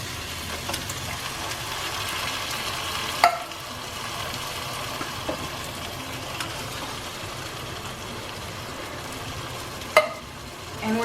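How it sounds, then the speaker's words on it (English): Onion and garlic cooking in a pan for a marinara sauce, a soft continuous sizzle with a few sharp clicks of a utensil against the pan, no voices. "I've been cooking the onion and the garlic for about 2 minutes"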